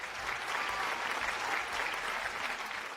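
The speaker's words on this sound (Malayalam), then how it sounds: "കയ്യടി." A television show audience applauds warmly, a dense steady clapping that holds for a few seconds without voices over it.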